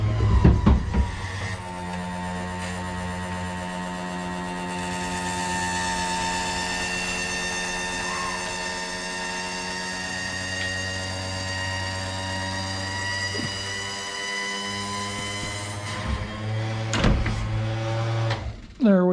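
The electric motor of a 1966 Ford Galaxie 500 convertible's power top whines steadily for about fifteen seconds as the top frame lowers, ending with a couple of clunks near the end.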